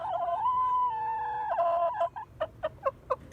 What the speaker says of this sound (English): talking about the different sounds that chickens make